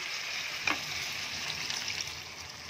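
Potatoes frying in oil keep up a steady, moderately loud sizzle as a paste of green chilli and ginger goes in, marked by one brief splattering burst early on and small crackles later.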